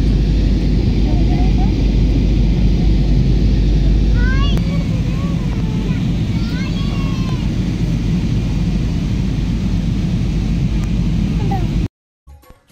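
A passenger airplane coming in to land, heard from inside the cabin as a loud, steady low roar with faint voices over it, cutting off abruptly near the end.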